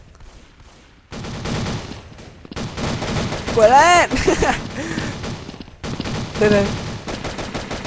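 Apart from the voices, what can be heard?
gunfire from Thompson and PP19 guns in video game Truy Kich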